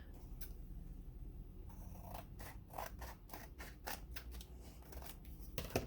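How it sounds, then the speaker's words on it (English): Scissors snip through a paper calendar page, cutting a shape out around a folded edge in a run of close, crisp cuts that come quicker and denser toward the end, with no talking. "And then I'm going to go around and cut it out of the background."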